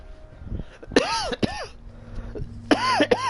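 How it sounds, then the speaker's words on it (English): Several sharp coughs or throat clears from a person during a Watch Dogs 2 gameplay session, the first two close together near the start and another pair later, loud and close over faint game background sound. "I'm so sorry about this cough"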